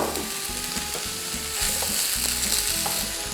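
Bell pepper and zucchini fry in a pan, a steady close sizzle with rhythmic scraping and stirring knocks underneath, no voices.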